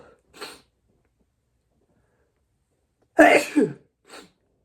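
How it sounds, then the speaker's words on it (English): A single sharp sneeze bursts out near the microphone, with brief breathy sounds before it and a short exhale after. "That was just a sneeze that just went... sneeze"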